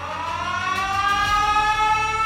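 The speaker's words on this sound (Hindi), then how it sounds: "वो सायरन जो शायद कोई सर्विस में सुनना ही नहीं चाहता।" A civil defense air-raid warning siren sounding for the Pearl Harbor attack, a loud, steady wailing tone with rich harmonics rising slowly in pitch, heard alone.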